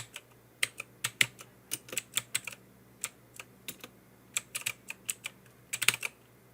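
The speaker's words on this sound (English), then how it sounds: "You need to type disk management." Someone types on a computer keyboard in Windows, with irregular clusters of crisp, close key clicks and short pauses between bursts and no talking.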